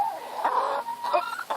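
A chicken clucks in a quick run of short, close calls with a brief pause in between.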